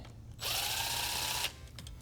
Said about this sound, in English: When I loosen the last bolt and nut connection here, this will loosen the tail light completely.